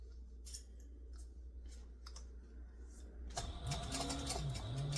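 Scissors snip and slide through cloth, a few crisp cuts over a low steady hum, followed by the brighter whir of a machine starting up.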